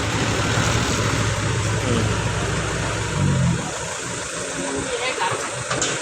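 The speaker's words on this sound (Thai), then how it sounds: "ถูกแล้วรถไถใหญ่ๆอย่างนี้ดันครับ" Large tractor pushing mud dug from a village dam, a loud continuous diesel engine drone with low rumbling that swells briefly midway, heavy and close throughout.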